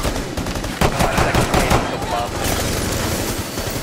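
Rapid pistol gunfire in the tactical shooter game Rainbow Six Siege, a dense run of sharp close shots over constant game noise, with players' voices mixed in.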